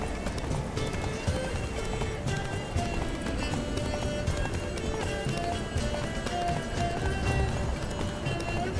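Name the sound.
horse galloping, from video game The Witcher 3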